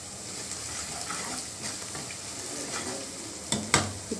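Ginger garlic paste frying in a pan for a curry, a steady close sizzle with stirring scrapes and a couple of sharper clinks near the end.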